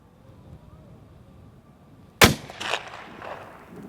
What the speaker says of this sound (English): This is the third time I've shot a gun in my life right now.